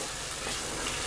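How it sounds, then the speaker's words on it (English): Tomato stew frying in oil in a pot, giving a steady, close, soft broadband sizzle with no pauses and no voices over it. "going to fry it for about 10 minutes until the oil comes to the top"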